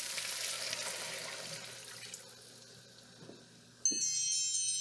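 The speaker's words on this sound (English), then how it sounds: "Okay, now we're going to add our water." Water poured steadily into a soup pot of potatoes and seasonings for Zuppa Toscana, a continuous close rushing stream that thins out before a brief clatter at the end.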